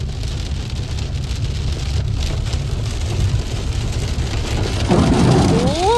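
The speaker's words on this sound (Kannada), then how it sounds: "ವರ್ಷದ ಮೊದಲ ಮಳೆನೂ ಬಂತು" The year's first rain falls heavily and close, a thick continuous wash of drops with low rumbling underneath, and a brief higher tonal sound enters near the end.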